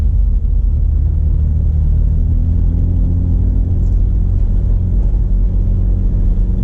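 A 2004 BMW E46 318i drives on a toll road, heard from inside with its engine in a kick-down, giving a loud, steady low-pitched drone and rumble with no talking.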